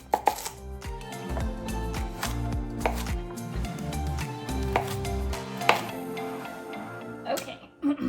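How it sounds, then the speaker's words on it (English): A peeled yam is chopped on a cutting board with a knife, the steady, fairly close chops landing in an uneven rhythm, and a voice talks over them at times. "I've got my yam peeled, and now I'm going to cut it up"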